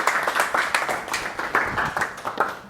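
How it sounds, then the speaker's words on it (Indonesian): A classroom audience applauds a student's answer with steady, dense clapping from many hands, sustained and fairly loud throughout. "beri applause dulu untuk Mas ini ya"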